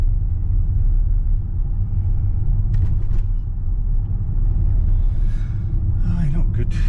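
A Range Rover L405 engine idles at a steady, loud rumble with the throttle held open after a throttle body swap, the drone constant throughout with a few brief higher rattles toward the end.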